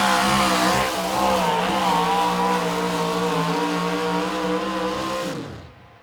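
Loud, sustained roar of a pro stock diesel racing truck running hard on a drag strip, a rising engine howl with strong harmonics held for several seconds before cutting off sharply.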